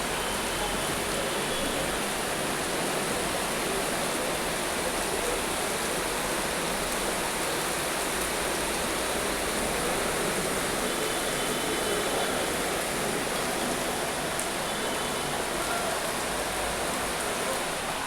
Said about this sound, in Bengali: বৃষ্টি শুরু হয়েছে, বৃষ্টি পড়ছে।